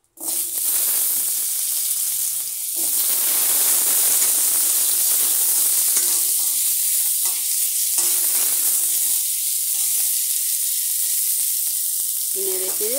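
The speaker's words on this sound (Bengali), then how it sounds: "একটু নেড়ে চেড়ে আমি আলুগুলি প্রথমে দিয়ে দেবো।" Potatoes hit hot oil with cumin and dried curry leaves, bursting into a loud, close, hissing sizzle that holds steady while stirring adds brief scrapes, with no voices.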